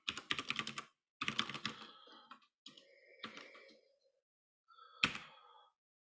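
Computer keyboard typing in bursts of rapid keystrokes separated by short pauses, close and fairly quiet, with a sharper clack near the end, during a software demo on cloud security.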